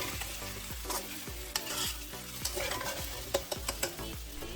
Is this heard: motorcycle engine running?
no